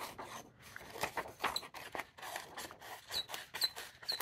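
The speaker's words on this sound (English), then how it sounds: "Really squeaky scissors." Squeaky scissors snip through embossed foil for an Easter folk bunny craft: soft, close cutting strokes with repeated short high squeaks, quiet and intimate.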